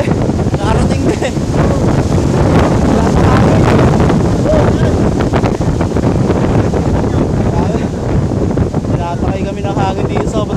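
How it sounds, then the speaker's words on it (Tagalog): Strong wind roars steadily across the microphone at the hilltop Candle Monument in DRT, Bulacan, a loud continuous buffeting rumble with people talking underneath. "Tinatakay kami ng hangin dito sa sobrang lakas."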